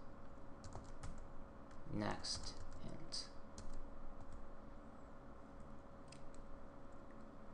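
Rapid clicking of computer keyboard keys in uneven bursts, fairly close, with someone speaking briefly partway through.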